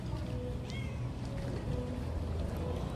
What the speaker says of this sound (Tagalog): Yan, may guest pang pusa.